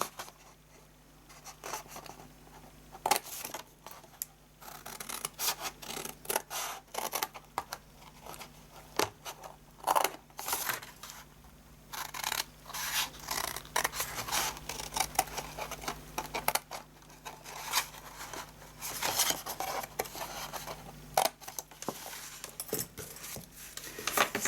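Scissors snip along score lines on paper card for a gift box, making a series of uneven crisp cuts and rustles with handling noise, close and fairly quiet, with no speech.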